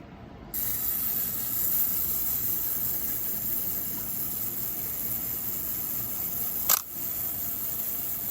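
Zenit ET film camera's mechanical self-timer whirs steadily and close for several seconds, ending in a sharp shutter click just before the end.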